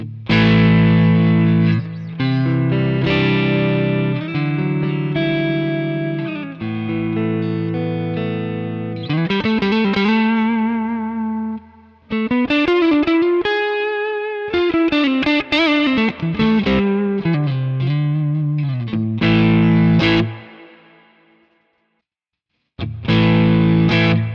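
Distorted electric guitar through an amp, captured with a Nano Cortex, chords and single-note lines played loud and saturated, a brief pause near the end before it resumes.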